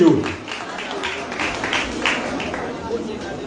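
Scattered clapping from a graduation ceremony audience, light uneven claps rising and fading over a few seconds while a voice speaks over a microphone.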